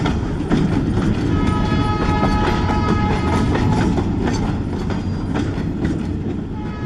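A freight train rolls past outdoors, a loud, steady rumble of wagons with rhythmic clicking of wheels over rail joints and a brief horn-like tone, continuous for several seconds with no talking.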